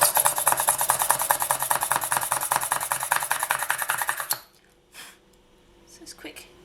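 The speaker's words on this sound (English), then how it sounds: "you're going to take a pin drill, and you're just going to find the top of your piece" A hand pin drill twists into a polymer clay mosaic earring piece with a fast, rhythmic scratchy rasping that runs for about four seconds, then stops, leaving a few faint handling sounds.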